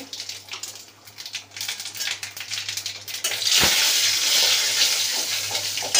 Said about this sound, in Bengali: মধ্যে শুকনো লঙ্কা, সর্ষে আর কালো জিরে ফোড়ন দেবো।